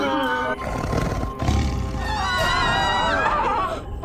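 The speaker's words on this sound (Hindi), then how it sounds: "उस बाघ का आत्मविश्वास बहुत बढ़ गया है, तभी तो इतनी तीव्र ध्वनि से वो दहाड़ रहा है" A tiger roars loudly and close, a long rumbling growl that rises and trails off, mixed with a music score and other voices in an animated scene.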